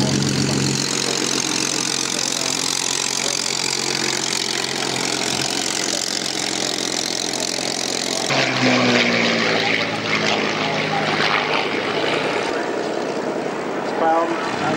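Steady drone of propeller aircraft engines as planes fly overhead in formation at an autumn air show at Duxford, 1998, loud and continuous, with a shift in tone partway through as the planes move.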